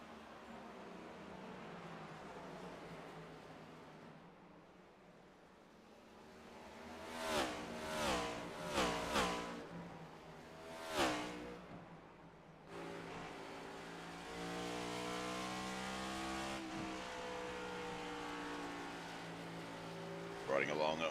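NASCAR Cup race cars circle the track, their engines droning steadily in the distance, then several cars roar past closer in quick succession, followed by a sustained mid-level engine hum with light background chatter.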